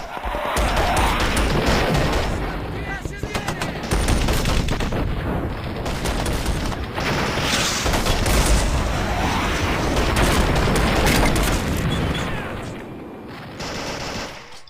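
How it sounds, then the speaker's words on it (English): A machine gun in the video game Men of War fires in long, dense automatic bursts with short gaps, loud and close, layered with crashes and battlefield noise throughout. "this machine gun's doing its job nicely"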